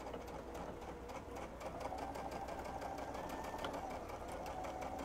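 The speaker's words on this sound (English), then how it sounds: "I'm gonna stitch down this whole side." A sewing machine stitches knit fabric for a plush horse toy, its steady rapid mechanical whirr and needle clatter running loud and unbroken throughout.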